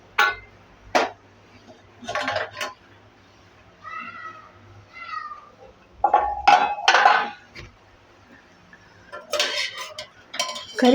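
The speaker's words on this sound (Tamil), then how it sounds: "இப்போ நம்ம குக்கர் ஓப்பன் பண்ணி பார்த்துக்கலாம்." A pressure cooker lid being opened after cooking beef tawa curry, with metal pots and utensils clinking in a home kitchen, a few sharp clanks and scrapes in separate bursts with pauses between.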